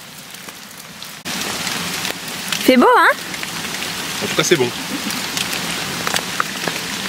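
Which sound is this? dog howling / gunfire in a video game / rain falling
rain falling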